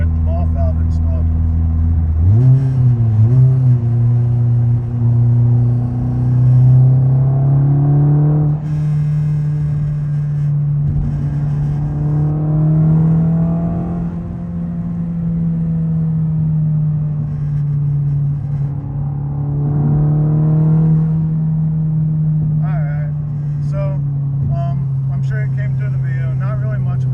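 Interior engine drone of a Honda FL5 Civic Type R fitted with an HKS blow-off valve and stiff engine mounts, a loud steady hum rising as the car accelerates, with brief valve whooshes between shifts.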